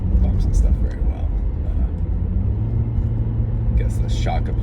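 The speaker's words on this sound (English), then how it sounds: "My car does not handle bumps and stuff very well." A car with poor shock absorption bounces along a bumpy road, giving a continuous low rumble with small thumps and rattles that rise briefly at the start and again toward the end.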